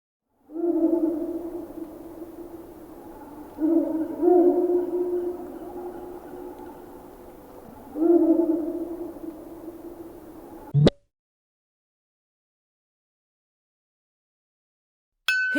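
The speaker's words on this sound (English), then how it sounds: "Hooting owl." An owl gives three low, drawn-out hoots a few seconds apart, fairly loud over a soft background, followed by a sharp click and silence.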